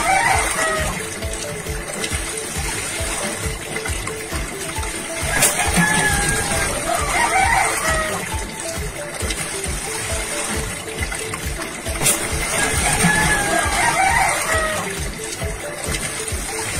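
Natural spring water gushing from a hillside source at Guayllabamba near Quito, Ecuador, a continuous close splashing flow with steady turbulent texture and no pauses.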